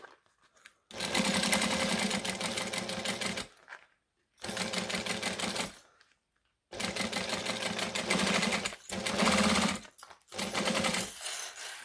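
A sewing machine stitches a seam and back stitches, running in four long close bursts of steady mechanical whirring with short pauses between them, with no talk.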